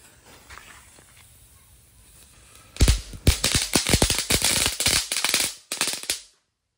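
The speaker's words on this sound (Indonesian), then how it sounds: "selanjutnya kita nyalakan mercon telur dino" A dino egg firecracker lit in a wok for Ramadan sets off a rapid string of loud, sharp bangs and crackles. The bangs start after a few seconds of quiet hiss, burst irregularly for about three seconds, then cut off.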